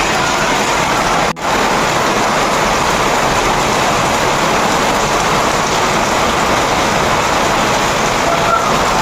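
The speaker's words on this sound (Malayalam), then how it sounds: "പ്രവചിച്ച പോലെ തന്നെ ദേ മഴ തുടങ്ങി" Heavy evening rain starting to pour outdoors at a home, a steady dense roar of falling water that stays loud throughout, with one brief dropout near the start.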